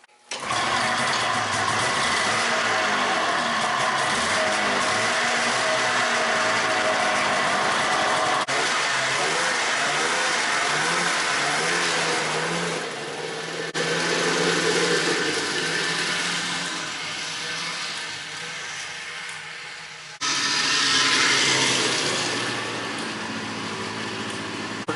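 A neighbour's revived snowmobile engine, fitted with its airbox, runs steadily for a short first test ride, a loud continuous high-pitched whine with shifting revs, dipping briefly and surging again before settling.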